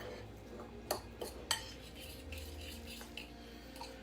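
A spoon stirs potato waffle batter in a mixing bowl, giving a few sharp clinks against the side among soft scraping, quiet and close with no talk.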